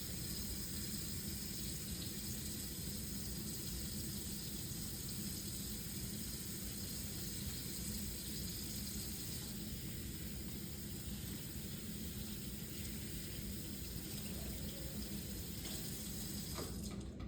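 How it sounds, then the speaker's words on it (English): Hands washed under a running tap in a clinical exam room, steady loud hiss of flowing water splashing into a sink for the whole stretch, with no talking. "I'm going to go ahead and wash my hands"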